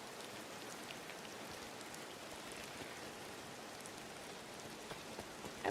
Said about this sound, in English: I wish it wasn't raining so much.